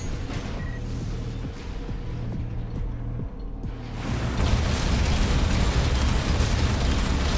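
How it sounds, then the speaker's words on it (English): A Gatling gun fires in the video game Armored Core 6, a continuous rapid stream of mechanical shots that swells louder and denser in the second half, with no voices. "Let's compare that with the Gatling."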